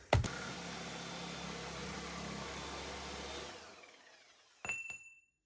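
A Sawzall reciprocating saw cuts through 1-inch steel rod in a machine shop, running as a loud, steady buzz for about three seconds and then winding down, followed by two sharp metallic clanks.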